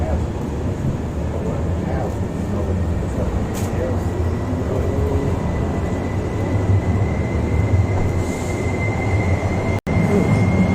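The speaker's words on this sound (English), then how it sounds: "There's that monorail they talked about." Portland monorail train running past with a steady rumbling roar and a faint high whine, fairly close and continuous.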